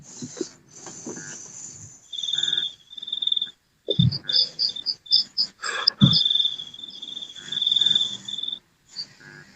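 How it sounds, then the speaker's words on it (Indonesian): Crickets chirp at night in short, shrill trilling bursts that start and stop irregularly, loud and close, with a few low thumps and pauses between runs. "di malam-malam hari yang sunyi sepi ini, ditemani suara-suara jangkrik."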